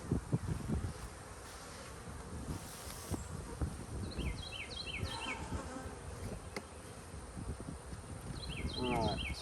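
Honey bees buzzing steadily at an apiary hive during an inspection of splits, a dense close hum with occasional louder passes near the ear and brief rustling.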